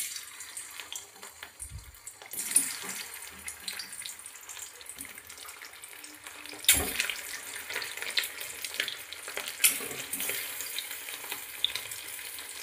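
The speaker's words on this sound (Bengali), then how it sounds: "এবার এক এক করে আলুগুলো আমি একটু ভেজে" Peeled boiled potatoes fry in a few spoonfuls of oil, a steady close sizzle with crackling pops and occasional scrapes and knocks as the pieces are turned in the pan.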